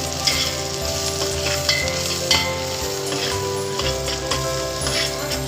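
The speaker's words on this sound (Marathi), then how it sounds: "आपण त्यात आता कांदा टाकू. कढीपत्ता पण टाकू. चांगलं मंद गॅसवर परतून घेऊ कांदा." Onion and curry leaves fry in hot oil over a low flame, a loud, dense sizzle up close with the scrape of stirring running throughout.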